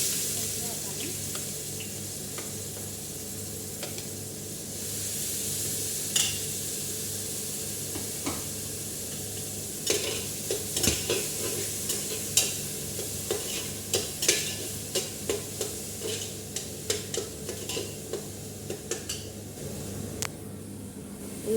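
Onions fry in oil in a pan with a soft, continuous sizzle. A spoon stirs and scrapes them repeatedly, giving sharper clicks and scrapes that grow more frequent in the second half.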